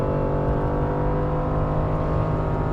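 First-generation Acura NSX engine revving hard in VTEC: a loud, sustained, high-pitched engine howl that holds steady throughout, heard from inside the car with no talking.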